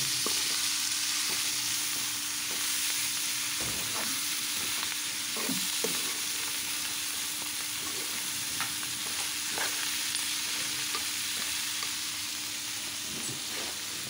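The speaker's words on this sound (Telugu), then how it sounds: "ఇప్పుడు ఒకసారి గరిటెతో కలిపేసేసుకొని ఇంకో 2 నిమిషాల పాటు ఫ్రై అవ్వండి" Cluster beans sizzle steadily in a hot pan while a ladle stirs them, giving occasional scraping knocks over the constant frying hiss, close and fairly quiet with no speech.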